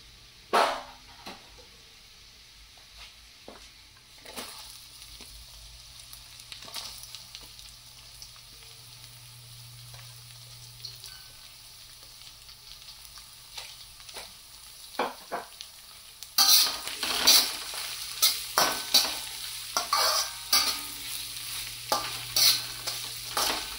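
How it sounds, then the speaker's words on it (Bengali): Chopped onion added to browned garlic in a pan, frying softly at first with scattered stirring scrapes, then a louder sizzle with rhythmic spoon stirring in the second half. "এই যে রসুনটা হচ্ছে একটু লাল লাল হয়ে গেছে, এখন আমি পেঁয়াজ কুচি দিয়ে দিচ্ছি।"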